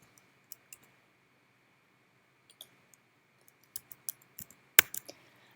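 A computer mouse clicks through a drop-down menu in quiet: scattered single clicks at first, then a quicker cluster of crisp clicks, with one louder, sharper click near the end.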